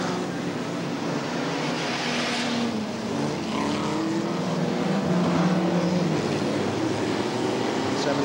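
Race cars, including a blue leader car and a Daimler, lapping a speedway track, a steady engine roar rising and falling as they pass, under continuous commentary.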